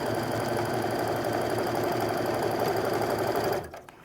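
A sewing machine stitches a quilt seam with a steady, fast, close mechanical whirring hum for several seconds, then stops abruptly near the end.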